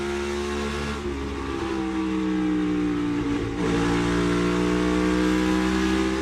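A NASCAR Cup race car on a qualifying lap at the night race, its V8 engine droning loud and steady with clear harmonic tones that dip and climb as it shifts through the corners.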